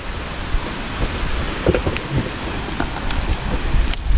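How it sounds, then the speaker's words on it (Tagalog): Gusty wind on a mountain buffets the microphone in a steady roar with scattered rustles and bumps, loud and close, no voices. "Mahangin."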